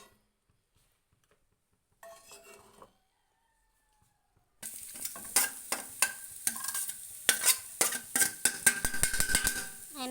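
Grated coconut is stirred and sautéed in a pan, with close, busy scraping and sizzling starting after a quiet opening with faint clinks and brief sounds.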